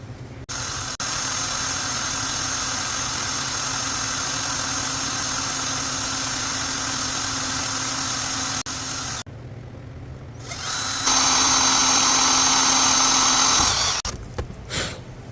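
Power drill boring small holes with a 7/8 drill bit during a 1996 Suzuki RMX250 top end rebuild, a steady whining motor close by, with a short break and then a higher-pitched run near the end.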